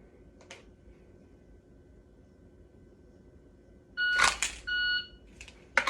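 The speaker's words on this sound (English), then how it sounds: "I want to make sure that I'm reacting off the timer as early as physically possible" An electronic shot timer sounds its loud start beep during handgun draw practice, a sharp tone that rises suddenly over quiet background after a faint earlier chirp.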